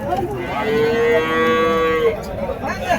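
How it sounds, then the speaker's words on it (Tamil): A cow lets out a single long, loud moo at a cattle market in Uthangarai, Krishnagiri district, close by over a background of crowd noise. "ஒரு ஜோடி வண்டி மாடு."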